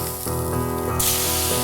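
Skirt steak sizzles loudly on a very hot grill, a steady dense crackle with brief surges as the meat is flipped, no talking.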